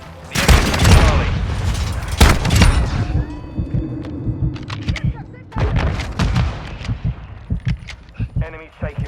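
Grenade blast and rapid gunfire in a Call of Duty: Modern Warfare 2 Domination match on the Shipment map, with booming explosions and dense bursts of shots in repeated loud clusters, mixed with game voice callouts.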